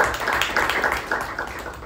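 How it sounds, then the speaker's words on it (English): A small audience at a Toastmasters club meeting claps together in a brief burst of steady, moderately loud applause. "And a big round of applause to Toastmaster Vijay."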